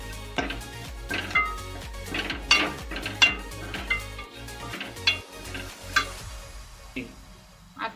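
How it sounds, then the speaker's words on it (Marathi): Spices and Everest mutton masala fry in oil for a Malvani mutton curry, with a low sizzle under repeated spoon scrapes and knocks against the pan, close and without talk. "परतून घेऊया आता हे सगळे मसाले तेलात।"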